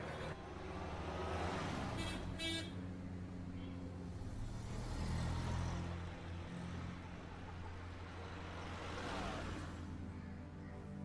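A car driven fast along a road, heard from inside as a steady engine drone and road rumble, with one brief higher whine partway through and no one speaking.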